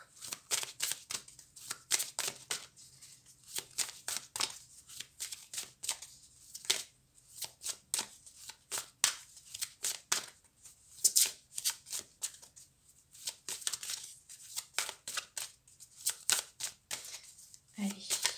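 Tarot cards shuffled by hand in a long run of quick riffling bursts with short pauses, close and clear, a low steady hum underneath.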